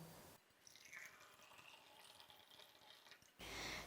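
Boiled turmeric water being strained, a steady soft liquid trickle and patter running for about three seconds, fairly faint and close, with no talking over it.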